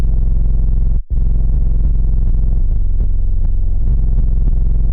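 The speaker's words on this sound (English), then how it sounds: "I really just want this sine wave bass here, super even." A deep, even sine-wave bass around 40 Hz for a metal breakdown, loud and sustained with a brief dropout near the start and faint distorted texture above.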